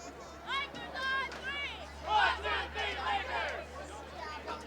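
A girls' JV soccer team shouts a group cheer before play resumes, several young voices calling out together in short bursts over background field noise.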